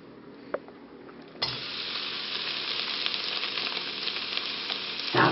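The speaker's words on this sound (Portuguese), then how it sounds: "Tá fritando, mano." Food sizzles loudly in a hot pan, a sudden burst of crackling frying that continues steadily after a quieter start, with no talking.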